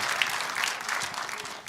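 A crowd at a rally applauds, scattered overlapping claps forming a steady wash that slowly thins and softens toward the end.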